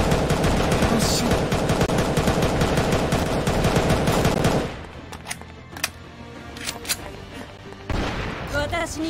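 Dense, continuous automatic gunfire in the mobile shooter Angel Squad, loud and rapid for several seconds, then dropping to scattered sharp shots and impacts before another burst, with a voice speaking over part of it.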